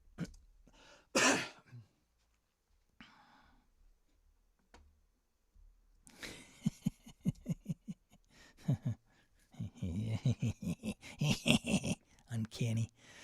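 A man coughs and clears his throat with a few loud, harsh bursts near the microphone, then falls quiet before going back to casual talk.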